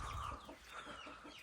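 Chickens cluck close by at a small egg-laying flock on a rainy day, a steady busy chatter of overlapping clucks with no talking.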